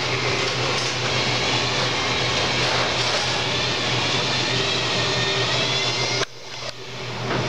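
A Clipper seed cleaner machine runs with a steady, dense mechanical roar and whir, close and continuous, before dipping abruptly near the end.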